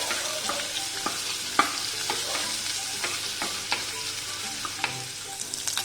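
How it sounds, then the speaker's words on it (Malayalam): Prawn heads sautéing in coconut oil for a Kerala-style prawn curry, a steady hissing sizzle broken by sharp stirring clicks and scrapes against the pan, close and moderately loud, without speech. "ഈ വെളിച്ചെണ്ണയിലേക്ക് നമ്മൾ വാഷ് ചെയ്ത് വെച്ചിരിക്കുന്ന ചെമ്മീൻ്റെ തലയുടെ ഭാഗം ഉണ്ടല്ലോ, നന്നായിട്ട്"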